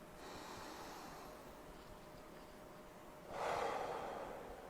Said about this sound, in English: we're just going to take another deep cleansing breath as we tap